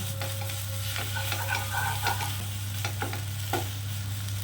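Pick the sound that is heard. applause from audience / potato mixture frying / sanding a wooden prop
potato mixture frying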